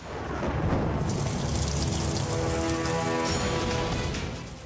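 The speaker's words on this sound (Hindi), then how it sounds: "सूबाई दारुल हुकूमत में मूसलाधार बारिश, 30 साल रिकॉर्ड टूट गया" A heavy monsoon downpour pours over Lahore, a dense, continuous roar of rain with splashing water throughout, steady and loud for the whole stretch, with no voices.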